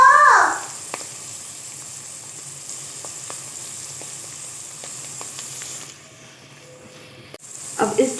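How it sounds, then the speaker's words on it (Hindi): Green chickpeas and minced meat fry in a pan with a steady soft sizzle and faint hiss, a few light clicks of stirring, the sizzle dropping quieter toward the end before a brief louder clatter. "8 से 10 मिनट हो चुके हैं सब्ज़ चनों को कीमे के साथ फ्राई करते हुए।"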